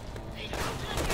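Dense, continuous gunfire from a firefight in the video game Resident Evil 6, a steady rattle of many shots blending into a loud wash that grows louder partway through.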